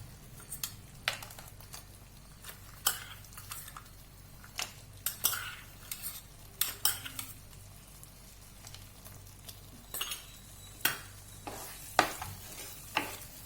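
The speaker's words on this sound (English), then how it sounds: "Just give this a mix along with the dry fruits." A spoon stirs beetroot halwa with dry fruits in a pan, giving irregular scraping and clinking strokes over a faint soft sizzle, close and fairly quiet with no talking.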